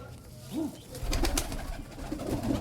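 Pigeons cooing inside a loft, a short rising-falling coo heard near, followed by fluttery rustling and more soft calls.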